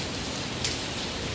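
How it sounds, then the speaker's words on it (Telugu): Heavy rain pours down in Hyderabad in a dense, unbroken roar of drops hitting the ground, loud and close for the whole stretch. "మొత్తం చాలా వర్షం ఉంది ఇక్కడ."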